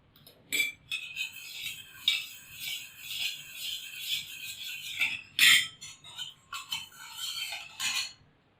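A metal spoon stirring pani puri chutney water in a steel vessel, slow scattered clinks and scrapes against the sides, sparse and fairly close, with quiet gaps between strokes and no talking.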